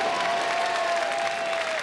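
A theatre audience applauds a stage production in a steady, dense wash of clapping, moderately loud and continuous with no gaps, a faint crowd murmur mixed in.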